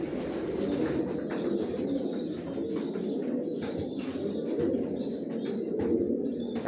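Tiger grizzle racing pigeons coo steadily in a loft, a dense chorus of soft, overlapping low calls close by, with faint chirps and no talk.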